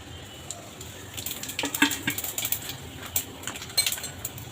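Cumin seeds crackle and pop in hot oil in a kadai, a burst of sharp sizzling snaps over a low background hiss.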